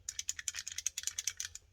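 Rapid metallic clicking and rattling of rounds shifting inside a Taurus G3 handgun magazine, a quick burst of about a dozen close, crisp ticks with no talk.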